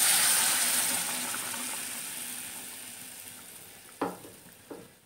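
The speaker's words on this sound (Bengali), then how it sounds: "এখন গরম জল ঢেলে দিচ্ছি।" Hot water poured into a sizzling turmeric-and-tomato spice paste for katla fish curry: a loud hissing burst that steadily fades over several seconds, followed by two short clattering knocks near the end.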